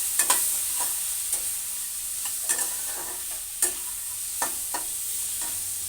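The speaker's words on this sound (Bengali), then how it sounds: "এটা সুন্দর করে কষিয়ে নেব" Chopped ginger and spices frying in a pan for a Bengali banana flower dish, a soft, even sizzle broken by scattered scrapes of a spatula stirring.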